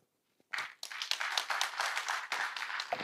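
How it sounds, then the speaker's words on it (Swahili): Audience applause at a public security meeting in Busia County, Kenya, starting abruptly after a brief quiet moment, then continuing as a dense, moderately loud spatter of clapping from a crowd. "tumpigie Chief makofi, Francis"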